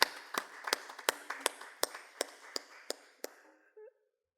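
Sparse, evenly paced claps sound in a Sunday evening worship service as the congregation applauds the worship team: about a dozen crisp, distinct claps in a steady rhythm, quiet and gradually thinning out to silence.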